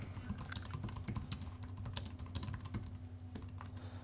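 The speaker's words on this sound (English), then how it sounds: "Just quickly typing up a little post on YouTube, on Facebook" Rapid typing on a computer keyboard, steady clattering keystrokes continuing throughout at close range, with a low background hum and no talk.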